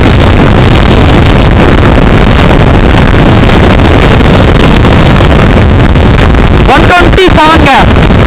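A Yamaha MT 15 motorcycle accelerates in fifth gear, its engine drone buried under loud, constant wind buffeting, with a voice breaking in near the end.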